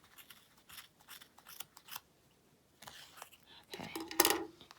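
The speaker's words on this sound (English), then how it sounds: "I'm going to the bottom and I'm just cutting through them" Scissors snipping through strands of crochet yarn, several short crisp cuts spread across the moment, close and fairly clear, with a louder sharp snip near the end and no talking.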